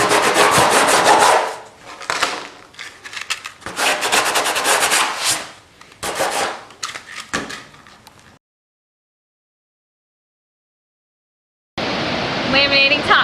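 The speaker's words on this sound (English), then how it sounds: "Finish up hand sanding." Rhythmic hand sanding of a surfboard, rough back-and-forth scrubbing strokes in bursts, then a pause of silence before the rasping strokes resume, close by.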